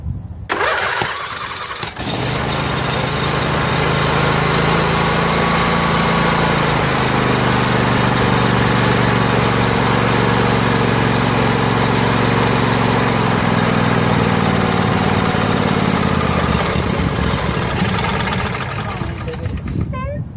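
John Deere L118 lawn tractor with a Briggs & Stratton Entek 22 HP twin engine, cranked on choke with a jumper pack. It catches after a brief crank and runs loud and close at a steady idle before cutting off near the end, with voices around it.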